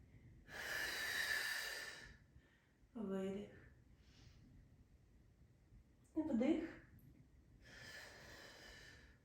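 Slow, deliberate breaths during a gentle Pilates back routine: a long airy inhale near the start and another near the end, between spoken coaching cues, heard close and soft.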